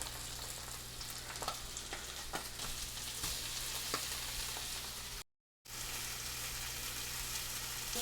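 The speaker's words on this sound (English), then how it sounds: "we're gonna add our Italian sausage to the skillet to let it sear" Spicy Italian sausage sears in a skillet with a steady, dense sizzle and frequent small pops and crackles, which continue with only a brief break in the middle.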